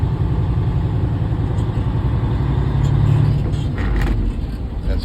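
A 10-speed manual truck engine drones loudly and steadily at low speed in bad weather, its heavy rumble shifting slightly in pitch partway through as it moves into fifth gear.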